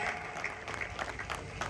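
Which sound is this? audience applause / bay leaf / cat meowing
audience applause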